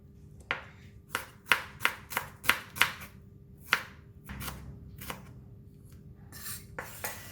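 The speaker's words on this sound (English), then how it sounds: "Next, we're going to cut the shallots." Knife chopping shallots on a cutting board while preparing a Thai corn salad, a run of sharp, close taps in quick succession, then scattered slower cuts with brief pauses and a light scrape.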